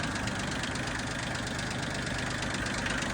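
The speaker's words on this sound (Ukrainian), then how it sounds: "отак от цей апарат заводиться" A tractor engine, with a level attachment fitted, idles steadily and loudly nearby, with a constant rattling diesel knock throughout.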